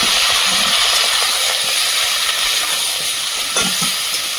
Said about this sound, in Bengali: কেটে রাখা সবজিগুলো দিয়ে দেবো। দিয়ে দেবো মটরশুঁটি।